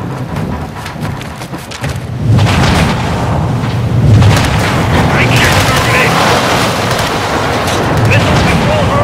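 Gunfire and explosions in Call of Duty MW2, a console shooter battle on PS5: dense, continuous bursts of shots with heavier booms around the two- and four-second marks, loud and close, with shouted dialogue mixed in.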